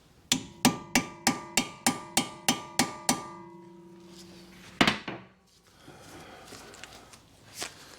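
Nine sharp metallic hammer taps in a quick, even series strike a Torx 50 grub screw on the front brake disc of a 2013 Mini Cooper D 1.6 diesel, followed after a pause by one more clank and quieter workshop handling noise.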